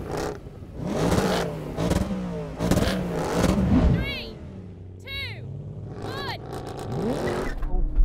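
BMW M3, AMG C63 and Audi RS4 launching side by side in a drag race, engines roaring and revving loudly with rising and falling sweeps as the cars pull away, voices talking over the noise throughout.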